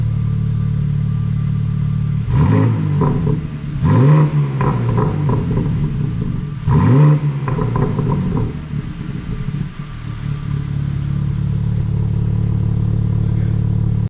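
BMW M4 G82 in sport mode with its exhaust, revving from a rumbling idle through three sharp throttle blips around the middle, each a rising snarl that quickly drops back to a steady idle, loud and close with no talk.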